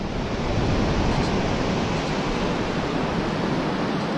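Surf rolling onto a southern beach in winter, a loud, steady wash of broadband noise with wind buffeting the microphone, no distinct breaks or voices.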